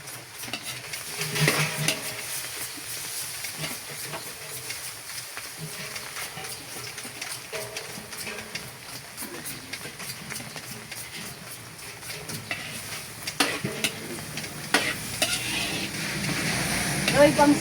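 Pork for sinigang cooking in a pot, with steady stirring and soft sizzling close by, occasional utensil knocks against the pot, and voices talking intermittently over it.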